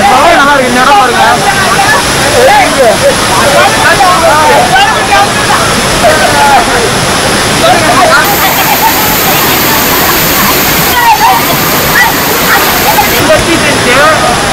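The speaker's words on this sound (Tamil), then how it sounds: "அது இல்லாமல் அருவியோட சத்தம் இதெல்லாம் இருக்கா" Hogenakkal waterfall roars as a steady, loud wash of water throughout, mixed with dense crowd babble and nearby voices at the busy riverside.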